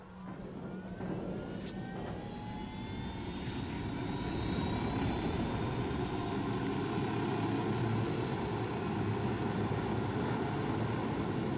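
A helicopter in Ghost Recon Wildlands flies steadily, a continuous whirring engine drone with a rising whine that swells slightly louder partway through and holds.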